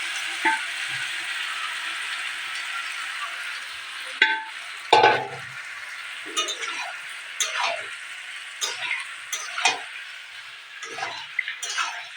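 Potato curry, made with pressure-steamed potatoes, cooks in a pan on a gas stove, giving a steady soft sizzle with occasional clinks and scrapes of stirring. The sound is quiet and close, with no talking.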